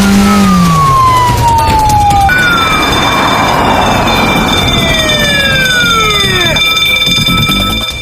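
Electronic siren from a toy police patrol car, loud and close, with rising and falling wails and steady high whistling tones sounding continuously on its own throughout.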